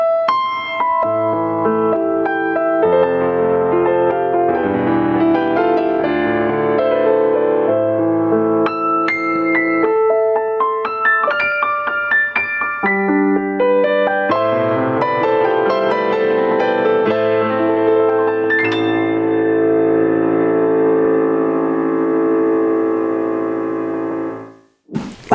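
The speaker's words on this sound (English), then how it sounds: "So let's start with the Yamaha CFX Concert Grand Piano." A Yamaha CLP-785 Clavinova digital piano playing its Yamaha CFX concert grand sample gives rich, sustained chords and melodic runs, played close and clear, ringing out until a final held chord fades, with no talking.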